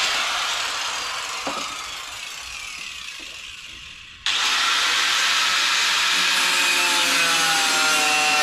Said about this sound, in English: Now I just need to cut the bumper, so the bumper should fit on there properly.